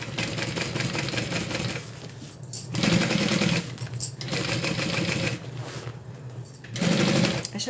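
A sewing machine stitches fabric and hardware for a bag in loud, close bursts of rapid mechanical chatter, separated by short pauses.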